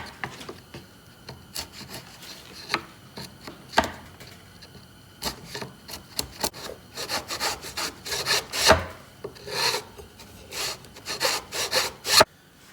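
A farrier's rasp files the inside of a wooden knife scabbard to open it up for the blade. The rasping is irregular, close and fairly quiet, with short scrapes and sharper scratches scattered throughout and no talking.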